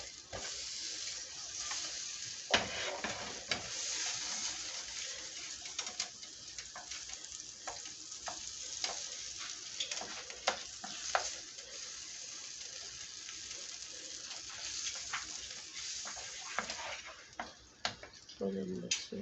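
Butter sizzling in a pan while a Haitian lasagna is cooked, a faint, steady crackle with scattered pops and clicks of utensils, quiet and close.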